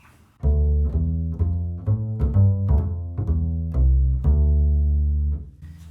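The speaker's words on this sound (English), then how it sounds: "What I just did there is I was using a technique called pizzicato." Plucked double bass walking through a jazz line, about a dozen deep resonant notes in steady rhythm, close and clear with no talking.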